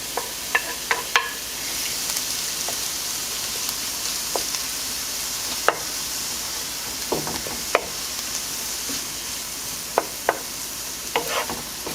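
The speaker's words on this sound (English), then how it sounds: "Now I'm going to go ahead and add my chopped tomato." Chopped tomato sizzling as it goes into a sauteing pan for chiles en nogada, a soft steady hiss with occasional sharp stirring clicks and taps, quiet and close.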